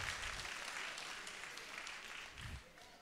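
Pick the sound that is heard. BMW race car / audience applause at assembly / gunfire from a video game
audience applause at assembly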